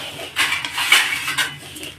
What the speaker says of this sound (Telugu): తిప్పుతూ ఉండాలి, లేకుంటే అడుగంటిపోతాయి.